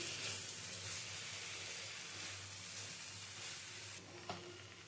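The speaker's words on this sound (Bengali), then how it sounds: "এবার একটু মিশিয়ে নিচ্ছি" A mustard-poppy paste with green chillies and drumstick flowers sits in a pan while a quiet sizzle and hiss run under soft stirring, with one small clink near the end.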